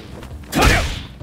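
A Hadouken fireball special move from the Street Fighter V video game, a single loud whooshing burst with a low thump that swells and fades over about half a second.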